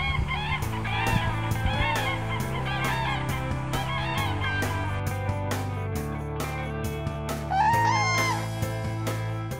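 Wild cranes give repeated honking, trumpeting calls in a loose series, some overlapping, set against a steady low musical drone.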